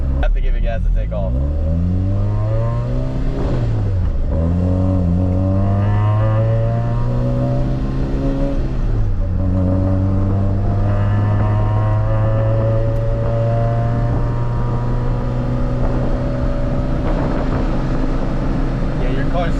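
A car engine revs up repeatedly, pitch climbing with each acceleration and dropping between gear changes, loud and close, with some talking over it.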